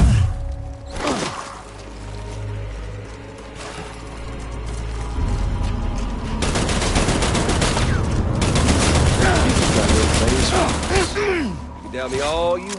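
Bursts of rapid gunfire in the video game Death Stranding crackle loudly over several seconds amid other in-game sounds, with a voice heard briefly underneath.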